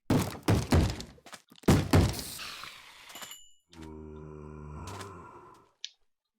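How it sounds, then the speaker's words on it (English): Heavy repeated thumps on a door in the Minecraft FTB Infamy modpack: several loud bangs in quick succession, then a hollow mechanical hum, a metallic clunk and a final sharp click. "You've been banging on that door."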